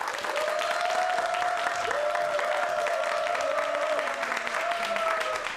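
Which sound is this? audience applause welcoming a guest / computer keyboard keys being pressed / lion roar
audience applause welcoming a guest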